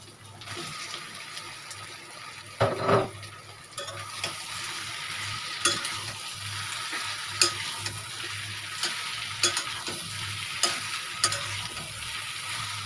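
A spoon repeatedly scrapes and stirs through a sizzling pan of taro and dried shrimp curry, close by, with a louder clatter near the start and a steady sizzle underneath.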